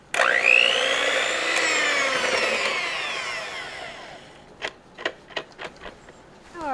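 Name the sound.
electric mixer mixing butter and sugar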